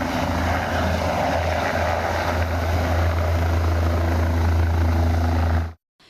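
A helicopter flies overhead during a landslide rescue in Uttarakhand, its loud steady rotor thump and engine drone running without a break before cutting off abruptly near the end.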